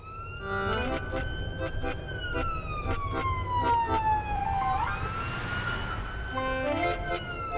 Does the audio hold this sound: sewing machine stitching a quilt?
no